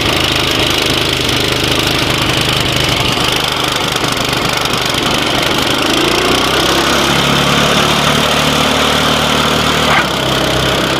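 A snowblower's small gasoline engine runs steadily and loud throughout after being started on full choke, its rough droning idle shifting in pitch partway through, with no talking.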